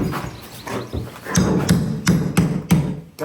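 Repeated heavy thuds and knocks, roughly evenly spaced and close by, as a hammer strikes and pries up wooden floorboards.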